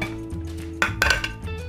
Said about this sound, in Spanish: Voy a colocar los huevos aquí en el vaso de la licuadora